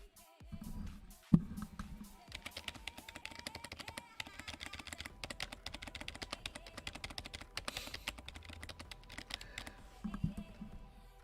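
Computer keyboard tapped at a desk while stepping through an animation frame by frame, giving irregular clicky taps of moderate loudness over a busy background with some sound bursts.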